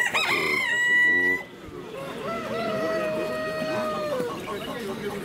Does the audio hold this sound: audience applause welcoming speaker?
no